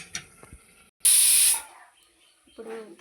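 A kitchen pressure cooker lets out one loud, sharp burst of steam that hisses for about half a second. Quieter clatter comes before and after it.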